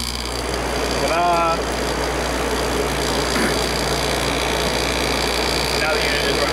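An analog knob-controlled window air conditioner hums and drones steadily up close with its compressor running, a constant mechanical tone with a faint speaking voice briefly over it.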